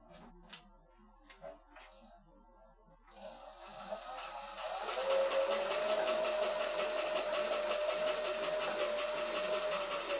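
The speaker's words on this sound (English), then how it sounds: "It's a sewing machine, but you make it go with your foot." A foot-powered treadle sewing machine gives a few faint ticks and clicks, then spins up into a steady, quiet mechanical whir with a sustained tonal hum that runs to the end.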